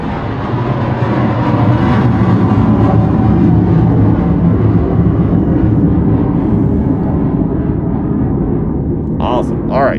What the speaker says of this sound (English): here comes a jet